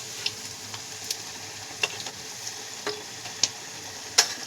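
Vegetables and leaves frying lightly in a pan while being stirred, a soft steady sizzle broken by a few sharp scrapes and clicks of the spoon, close and moderately loud, with no voices.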